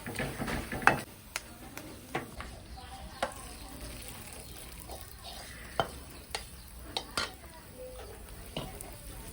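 Unniyappam batter frying in a hot pan, with a steady low sizzle broken by sharp clinks and scrapes of a utensil against the pan, close up and fairly quiet.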